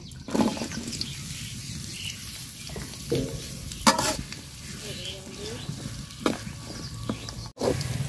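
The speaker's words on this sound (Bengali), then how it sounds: "পেঁয়াজটা লাল লাল করে আমি ভাজা নিছি" Chopped onion fries in hot soybean oil with cardamom, cinnamon and bay leaf in a cooking pot, giving a constant close sizzle broken by several scraping stir strokes.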